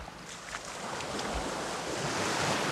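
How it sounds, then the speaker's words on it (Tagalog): Sea waves wash onto the shore in a soft, continuous hiss. The surf stays fairly faint and steady, with no voices. "Ang dagat mga amigo."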